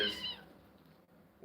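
A kitten named Corn lets out one sharp, close meow at its mother cat, then a brief lull before another sound begins.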